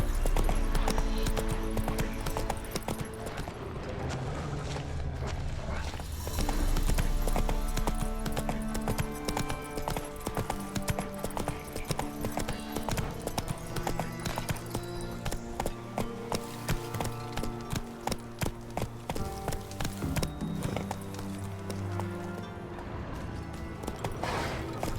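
Roach, a horse in the video game The Witcher 3, trots with rhythmic hoof clip-clops over layered game music, steady and fairly close, with occasional short voices.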